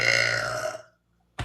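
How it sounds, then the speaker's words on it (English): A woman lets out a single deep, drawn-out belch lasting most of a second, close and loud, followed by silence and a brief sharp sound at the end. "And I burp a lot like a man."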